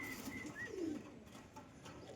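Teddy and golden pigeons give a few soft coos, close by and alone, with no voices over them.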